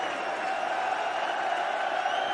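A darts crowd at a World Cup match roars and cheers on a player attempting a checkout, a dense sustained wall of hall-filling noise with voices mixed in throughout.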